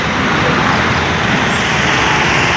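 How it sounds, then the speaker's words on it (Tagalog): Road traffic in Ragay City, where a bridge under repair has been reduced to one-way: a dense, steady roar of cars, trucks and buses, loud and close, without a break and with no voices. "Traffic na naman sa Ragay City."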